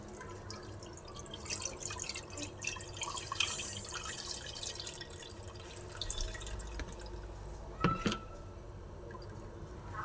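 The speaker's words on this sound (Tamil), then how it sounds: "இப்போ இதை குட்டி ஃபில்ட்ரு வச்சு ஃபில்ட்ரு பண்ணிக்கலாம்." Cottonseed milk, squeezed out three times by hand, trickles through a small kitchen filter as a steady, soft dripping and liquid patter, with a brief louder splash near the end.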